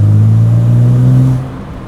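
A BMW 135i with the N54 engine pulls hard, its deep, smooth drone swelling close through a lowered car window, then easing off after about a second and a half.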